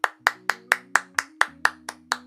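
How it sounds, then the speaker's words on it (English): Two hands clap about ten times in a steady, even rhythm, each clap sharp and close, with a soft sustained musical tone underneath. "If you had made it this far, clap hands for yourself."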